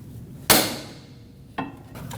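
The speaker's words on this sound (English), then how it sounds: "tap it with a hammer, and it should pop off" Hammer striking a long pry bar set against a metal boot clamp on a 2020-era Toyota Corolla steering rack, two sharp metallic taps about a second apart, close and loud, with ringing decay.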